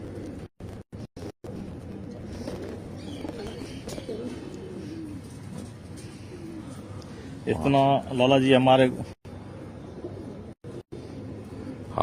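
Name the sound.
pigeons cooing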